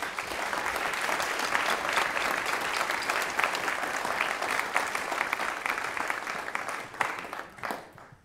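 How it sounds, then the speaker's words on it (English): A concert audience at a spring pops show applauds the camera operators, giving sustained dense clapping that fills the hall evenly before tapering near the end. "Would you please give them all applause?"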